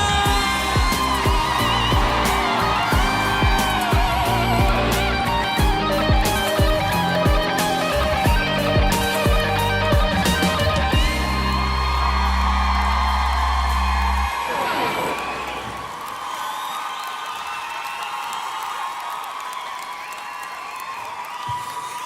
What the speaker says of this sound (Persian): تهران یک جیغ بلند